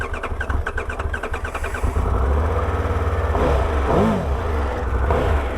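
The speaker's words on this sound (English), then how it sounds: "1160cc triple motor with the T-plane crank engine in it" A Triumph Tiger 1200 Rally Pro's 1160cc triple-cylinder engine with T-plane crank starts with a brief cranking stutter, then settles into a steady, close, throbbing idle that swells slightly as it is revved.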